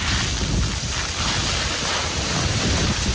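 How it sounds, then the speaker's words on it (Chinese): Typhoon-force wind roars at the seashore beside a ferry pier in Qijin, Kaohsiung, with rough sea waves crashing beneath it. The sound is a loud, continuous rushing with heavy wind buffeting on the microphone. "这里呢在海边的这个风浪是相当的大，海象呢是非常的恶劣"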